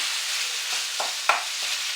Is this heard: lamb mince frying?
yes